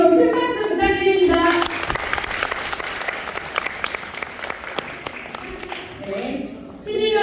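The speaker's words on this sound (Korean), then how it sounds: "네, 그럼 큰 박수 부탁드립니다" Applause from the audience at a residents' assembly in the Seodaemun culture and sports hall, a dense sustained round of clapping that fills most of the moment, with a voice speaking before it starts and again as it fades.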